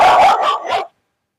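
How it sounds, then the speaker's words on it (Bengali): A security alarm gadget plays a recorded dog barking, three loud, close barks in quick succession that cut off abruptly into silence. "এখন কুকুরে ঘেউ ঘেউ করবে সেই রকম একটি অ্যালার্মে সেট"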